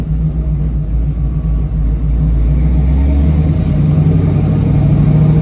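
A 1968 Chevrolet Camaro RS/LS restomod drives off, its engine giving a steady, loud low rumble that swells slightly as it pulls away.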